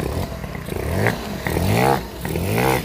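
A freshly rebuilt Peugeot 103 moped engine runs on test, rising and falling in short revving bursts with a buzzy two-stroke rasp and some mechanical clatter, close by.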